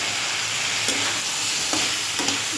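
Green chilies tossed into hot oil in a frying pan, crackling with a soft steady sizzle and a few scraping stirs of a spatula, quiet and close, no voices.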